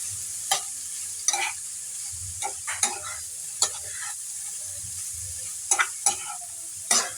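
Dabong and sardines are stirred in a hot pan, a steady faint sizzle under a string of sharp, irregular scraping strokes of a spatula, close by with no talking.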